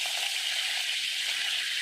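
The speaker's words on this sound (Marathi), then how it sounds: "अगोदर या कारल्याला फ्राय करून घ्यायचं पूर्ण लाल होईपर्यंत" Bitter gourd pieces fry in hot oil in a pan, giving a steady, bright sizzling hiss that stays even and close throughout, with no talking.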